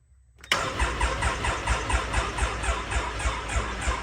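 A Can-Am X3 engine cranks over after a click, its starter churning in a fast, even pulsing rhythm that stays loud and steady without catching.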